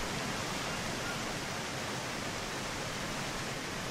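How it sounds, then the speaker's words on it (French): A waterfall in the jungle survival game Green Hell, a steady, even rushing roar of falling water that holds constant, heard alone. "Regardez cette cascade d'eau"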